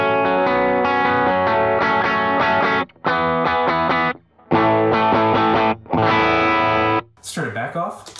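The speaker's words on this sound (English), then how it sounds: "So I'm gonna turn on my light gain stage here, which is the Benson preamp" Electric guitar played through a Benson preamp light gain stage into a Strymon Iridium, giving a lightly driven, loud sustained chords in several strummed bursts with short pauses, ending in a brief scraping flourish, no voice over it.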